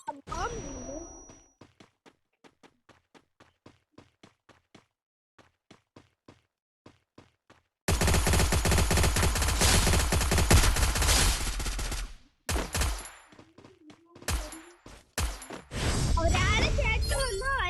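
Gunfire in the Free Fire video game: a run of evenly spaced single shots, then long dense bursts of rapid automatic fire in loud stretches broken by short gaps, with a voice coming and going.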